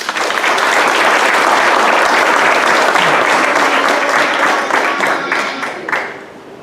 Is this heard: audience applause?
yes